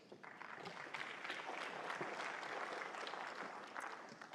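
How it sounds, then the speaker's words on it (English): Faint, steady audience applause for speakers at an agricultural conference, many hands clapping evenly at a distance for several seconds. "Let's give a round of applause again to our speakers."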